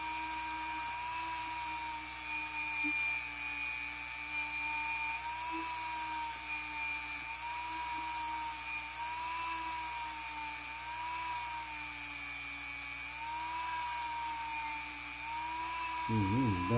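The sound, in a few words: rotary tool grinding oxidization off a model steam engine part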